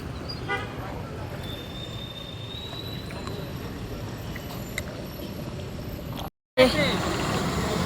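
Traffic rumbles at a town square in Phaltan, with a sustained horn toot rising over the steady, fairly distant road noise, then a short drop to silence before the noise returns.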